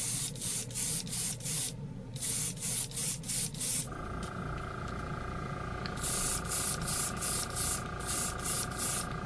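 A spray gun lays down passes of Fireball red paint, heard as repeated close bursts of hissing spray in an even rhythm. A pause in the middle brings a lower steady hum, and then the rhythmic spray bursts resume.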